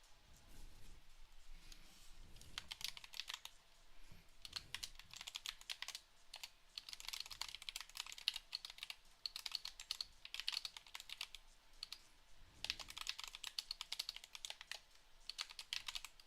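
Steady, quiet computer keyboard typing with irregular bursts of keystrokes running the whole time, close by and with no voices over it.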